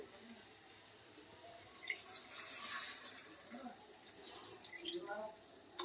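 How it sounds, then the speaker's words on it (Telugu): A small glass of water pours and drips into a simmering fish curry, a soft, close trickle running beneath people talking. "చిన్న గ్లాస్ వాటర్ వేసుకోవాలి"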